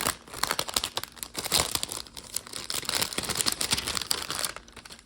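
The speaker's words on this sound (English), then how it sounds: "get all the crinkling out of the way" Plastic packaging from cross stitch kits crinkling and rustling steadily and up close for several seconds, dense and continuous with no voices.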